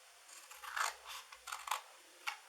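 Several short snips of scissors cutting down the sides of a paper gift box, close and crisp, coming in uneven bursts with small pauses between cuts.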